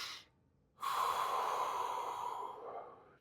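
A person lying down takes a slow, deliberate breath: a short exhale fades into a pause, then a long, close, airy breath swells and gradually tapers off.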